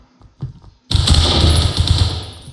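Gunfire in the video game Phantom Forces: a few faint thumps, then a loud burst of rapid automatic fire that rattles on continuously near the listener.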